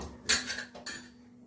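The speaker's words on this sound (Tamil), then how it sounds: "தவாவை வச்சு" A metal tawa pan is set down on a kitchen stove, giving two close clanks: a sharp bright one and a softer second that rings briefly before fading over a low steady hum.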